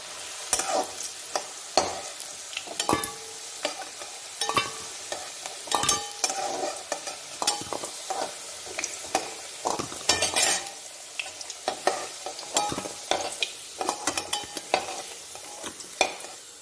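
Potatoes lifted out of hot frying oil for a raw jackfruit curry, with steady sizzling under repeated scraping and clinking of a utensil against the pan, moderately loud and close, no voices.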